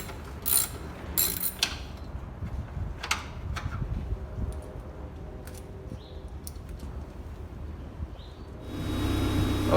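A 10 mm ratchet loosens bolts on a Miata window regulator with soft, close clicking pawl sounds and small metallic mechanism noises in short bursts over a low hum.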